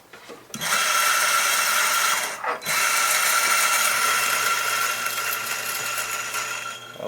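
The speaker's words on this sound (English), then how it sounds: "I'm going to grind the little bit of coffee that's in here right out" A Ceado E37 coffee grinder grinds beans in a loud, continuous burst of about six seconds, with a brief dip partway through, then runs on to the end of the clip.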